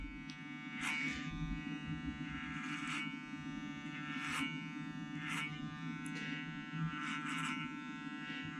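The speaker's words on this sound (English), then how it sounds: "just clipper over comb, just to kind of taper them in" Electric hair clippers buzz steadily at close range during a clipper-over-comb taper on a classic men's medium-length scissor haircut, with a constant hum and repeated short crisp bursts as the blades cut hair.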